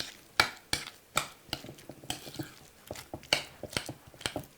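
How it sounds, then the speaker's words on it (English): A utensil stirring lemon juice, salt and onion together in a bowl, giving irregular soft clinks and scraping taps, fairly faint, with no talking. "next what we are going to add is our lemon juice and that salt along with that onion. Let's mix it all up."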